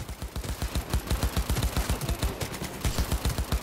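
Sustained rapid automatic gunfire in Cyberpunk 2077, a fast even rhythm of sharp, punchy shots running continuously at close range.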